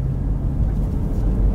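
Toyota 4Runner engine and road rumble from inside the cabin while driving, a steady low drone with no voices.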